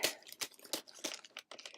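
A plastic shipping package crinkles and rustles up close as it is opened, quiet irregular crackles coming in short bursts.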